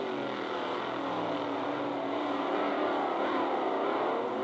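RevoSlot GT slot cars racing down a hill on a track, a loud steady electric whir and buzzing motor drone with slight swells as the cars pass.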